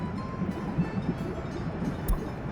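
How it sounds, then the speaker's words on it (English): A departing freight train loaded with bitumen in Workers & Resources: Soviet Republic gives a low, steady rumble with faint rail clatter, and nobody speaks. "Let's wait for the train to head out."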